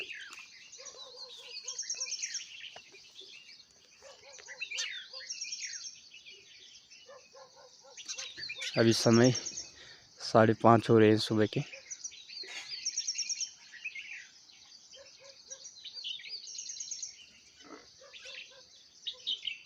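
Various birds chirp and call at dawn in the mountains, with a steady high chorus of overlapping tweets and a louder, closer burst of calls mid-clip; someone speaks briefly over the birdsong.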